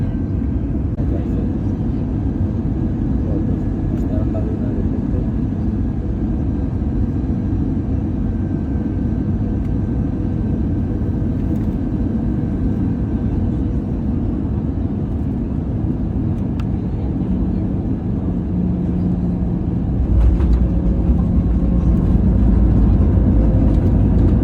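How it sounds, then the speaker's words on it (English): Airliner cabin during landing on runway 1 left, an Iberia business class flight: steady loud low engine and airflow rumble throughout, swelling louder near the end as the aircraft touches down. "Let's buckle up and enjoy the landing on runway 1 left."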